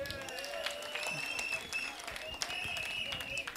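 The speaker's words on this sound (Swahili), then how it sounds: "Mutuma apigwe makofi." A crowd claps steadily and densely for Reverend Mutuma at a gathering in Meru, with voices and tonal sounds running over the applause throughout.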